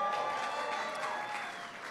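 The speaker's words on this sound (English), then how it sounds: "Give him a big round of applause." Applause from the crowd at a White House Cinco de Mayo celebration greets a guest, a steady, moderately distant clatter of many hands lasting under two seconds.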